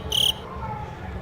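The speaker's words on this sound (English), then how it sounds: "Crickets?" A cricket gives a short, loud, high chirp near the start, then falls silent over a low background hum.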